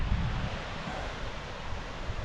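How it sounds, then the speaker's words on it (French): Waterfall: a steady, dense roar of rushing water filling the whole clip, constant and loud with no talking over it. "j'entends un bon bruit de cascade là"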